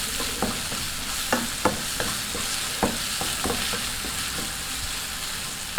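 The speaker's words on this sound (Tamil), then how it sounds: "நல்லா வதக்கி விட்டுக்கலாம்." Tomato, curry leaves, chili powder and salt sauté in a pan for a prawn thokku, with a steady soft sizzle and repeated sharp scrapes and taps of a spoon stirring against the pan.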